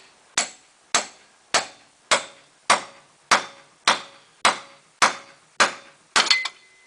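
Steady metallic hammer blows on a pickle fork during a 2002 Jeep Liberty front end rebuild, about ten sharp strikes at an even pace, close and ringing, ending in a quick cluster of hits.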